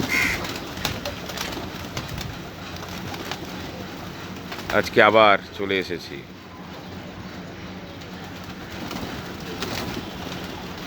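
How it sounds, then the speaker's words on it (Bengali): Pigeons coo in short bursts, loudest midway, over steady outdoor noise while someone speaks in Bengali at the start. "আমার পায়রাদের নিয়ে।"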